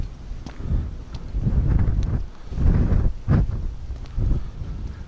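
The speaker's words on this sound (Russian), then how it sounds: "Ветер сегодня очень сильный" Strong wind buffets the microphone in loud, uneven gusts, rumbling low and rising and falling every second or two.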